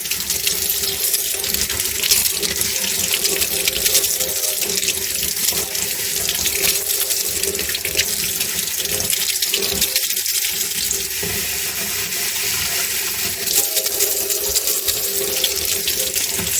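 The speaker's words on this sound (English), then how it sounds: "So I'm going to turn the hot water on down here in the sink" Hot water pours steadily from a sink tap in a home, a loud, continuous rushing splash that holds the same level throughout with no talk over it.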